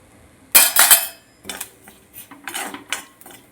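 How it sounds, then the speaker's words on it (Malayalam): A metal spoon scrapes and clinks against a pan while chili and coriander powder are stirred into a Kerala prawn curry, with a loud first burst of scraping followed by several lighter, uneven stirs up close. "ഇതൊന്ന് ഇളക്കി കൊടുക്കാം."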